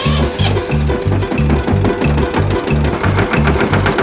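Tractor engine running close by, a loud rhythmic diesel chug with fast regular low thumps and steady mechanical clatter.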